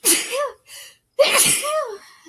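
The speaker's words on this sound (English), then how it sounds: "I have to sneeze so bad." A woman sneezes loudly twice in quick succession, a short sharp burst, a pause, then a bigger second sneeze trailing off into a breathy exhale, close to the mic with no talking.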